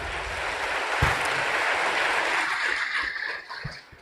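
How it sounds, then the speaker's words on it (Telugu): A church congregation clapping loudly together, a dense continuous wash of applause filling the room for a few seconds, then tapering off near the end. "ఒకసారి గట్టిగా చప్పట్లు కొట్టి దేవుని మహింపరుద్దాం"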